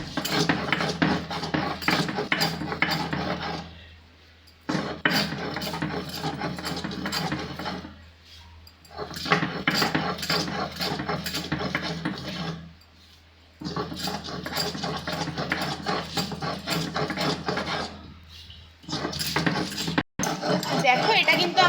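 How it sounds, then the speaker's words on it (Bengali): Gandhabhadali leaves being ground finely on a grinding stone, a rhythmic scraping and rolling in repeated bursts separated by short pauses, with talk over it. "একদম ভালো করে এটাকে আমরা মিহি করে বেটে দিচ্ছি"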